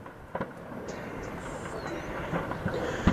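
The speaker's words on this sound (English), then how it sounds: "We are at the Mariupol railway station just now." Train at the Mariupol railway station during the siege, a steady low rumble of rolling railcars with faint clatter, filling the whole stretch at moderate loudness with no talk.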